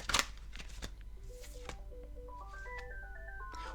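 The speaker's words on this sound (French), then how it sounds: "Excusez-moi, c'est le téléphone." A telephone playing a melodic ringtone, a stepped tune of rising and falling tones that starts partway through and keeps going, preceded by a few sharp clicks and rustles near the microphone.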